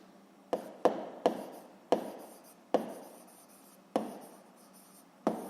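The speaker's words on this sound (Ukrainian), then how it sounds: "Записуємо тоді." A physics formula is written down by hand, with seven distinct close pen strokes on paper, each a sharp scratchy tap that fades quickly, separated by quiet pauses and with no talking.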